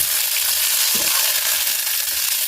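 Chicken fajitas sizzle steadily in a pan, a bright, continuous frying hiss close up with a brief stir partway through and no voices.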